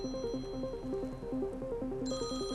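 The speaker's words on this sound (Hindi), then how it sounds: "घंटी बज रही है।" A phone rings in a Hindi film scene, a close, repeating electronic ringtone melody looping steadily, with a brighter higher tone joining near the end.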